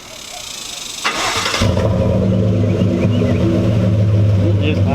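A 2019 Chevrolet Silverado pickup engine with a large aftermarket cold air intake cranks over, catches and settles into a deep, loud, steady idle rumble heard close up.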